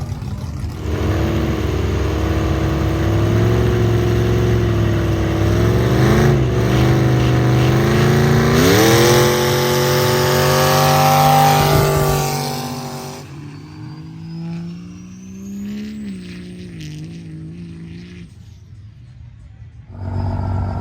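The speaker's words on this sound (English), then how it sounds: "So we're gonna do a drag race." Dirt drag racing buggies, diesel and gas, roar loudly as they accelerate, their engine pitch climbing for about twelve seconds before dropping to a fainter, more distant drone.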